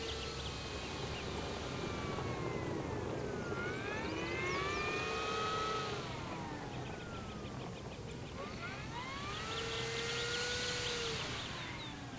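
An RC Avios Super Tucano turboprop model airplane, 1600 mm span, throttles up on a runway, its electric motor whine sweeping up and down in pitch over steady outdoor noise at moderate distance.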